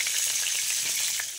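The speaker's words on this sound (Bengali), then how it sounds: "পনির ভাজা তেলটাতেই আমি জিরে, তেজপাতা আর একটু গোটা গরম মশলা ফোড়নে দিয়ে দিলাম" Cumin seeds, bay leaf and whole garam masala sizzle in hot oil left from frying paneer, a bright continuous crackling hiss that is close and steady, fading slightly at the end.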